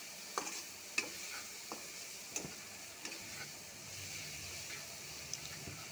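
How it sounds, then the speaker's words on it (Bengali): Masala of ginger, cumin, garlic and chili pastes frying for chicken, a faint low sizzle broken by occasional light clicks and scrapes of a stirring spoon, quiet and unhurried. "জিরে বাটা, রসুন বাটা, মরিচ বাটা দিয়ে মশলাটাকে কষিয়ে নিচ্ছি"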